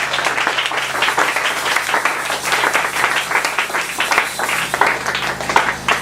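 A church congregation applauding the Lord during a French-language sermon, steady loud clapping throughout with a few voices mixed in.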